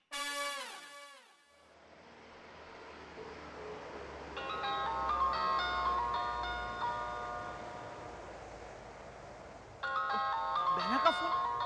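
Phone ringtone sounding for an incoming call in a home, a melodic repeating tone over room noise, pausing and then ringing again near the end, with a voice briefly heard at the start.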